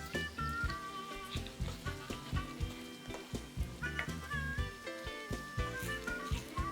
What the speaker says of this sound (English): Okay, we're gonna stir this.